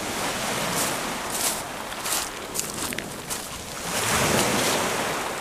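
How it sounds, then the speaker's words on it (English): Ocean waves wash and break at a beach beside a fishing pier, a steady broad rushing surf that swells and eases, with no voices over it. "Still nice to come down and just hear this sound of the waves."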